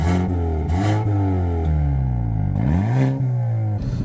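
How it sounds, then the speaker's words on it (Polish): The exhaust of a 2022 Hyundai i30N with 280 hp roars loudly from close by while driving, revving up repeatedly with rising pitch and brief drops between gear changes. "To jest prawdziwy dźwięk wydechu i to jest coś fantastycznego."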